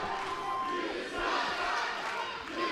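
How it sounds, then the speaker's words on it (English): A wrestling event crowd jeers and shouts at the heel team Controversial Inc, a dense, loud, sustained roar of many voices with scattered yells and whistles filling the arena. "This crowd letting it be known how they feel about Controversial Inc."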